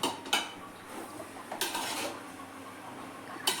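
Tomato paste being sautéed in a pan, a low steady cooking hiss broken by three distinct clinks of a utensil against the pan, close and fairly quiet, with no one speaking.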